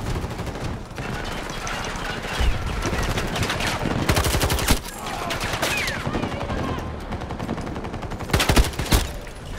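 Rapid gunfire from guns in the shooter game Hourglass, bursts of shots rattling through most of the stretch with louder volleys near the middle and end, under steady game noise.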